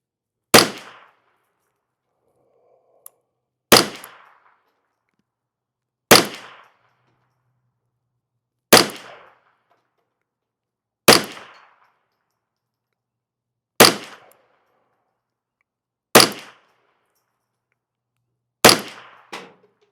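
A rifle fires Federal Gold Medal Target rounds with unlubed bullets: eight loud, sharp shots spaced about two and a half seconds apart, each with a brief decaying tail, outdoors with silence between.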